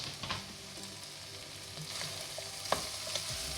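Mint leaves frying in a pan while cooking a Bangalore-style vegetable khurma, giving a soft steady sizzle with a few light stirring clicks, quiet and close with no talk.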